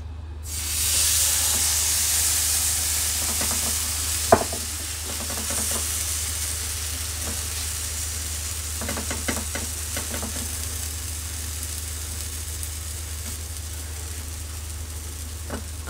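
Vegetable pancake batter sizzling on a lightly ghee-greased dosa pan, a steady bright hiss running throughout with a sharp tap near the start and a few soft scrapes, no talking.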